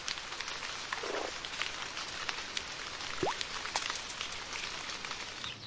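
Steady rain patters and hisses across the whole stretch, a dense wash of drops with a brief bird call cutting through midway.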